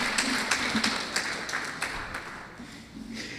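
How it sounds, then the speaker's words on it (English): An audience at a medical school white coat ceremony applauds a speaker, faint and distant steady clapping with a few sharper claps standing out, continuous throughout. "give her a round of applause even before she comes"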